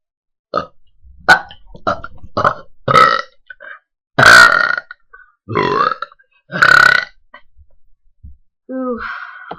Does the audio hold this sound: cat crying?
no